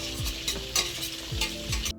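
Grated onion sizzles steadily in four spoons of hot oil, with a few scraping stirs of a utensil against the pan, close up.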